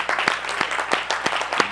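A small congregation at a livestreamed gathering claps for Miss Yahuwah in a loose, fairly close round, with several sharper individual claps standing out at uneven intervals.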